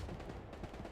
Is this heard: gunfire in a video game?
yes